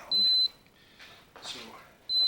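A battery capacity tester, with no battery connected yet, gives two sharp, high electronic beeps at the start and end, with quiet talk between them.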